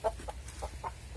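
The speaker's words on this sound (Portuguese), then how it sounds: "E olha o doutor galo. Crista bola, é um galo novo." A young rooster with a pea comb and newly emerging spurs gives several short, soft clucks in a farmyard pen, spaced irregularly over a low steady background hum.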